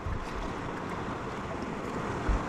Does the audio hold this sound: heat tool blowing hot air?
no